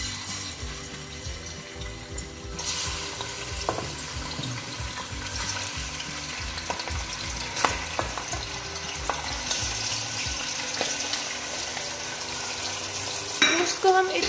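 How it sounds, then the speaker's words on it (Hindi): Mutton pieces frying in four to five spoons of oil in a pot, a steady loud sizzle with repeated scraping and clattering of a stirring spoon, close by and without talk. "अब हम एक बर्तन में 4 से 5 चम्मच ऑयल डालेंगे। इसमें गोश्त शामिल करेंगे।"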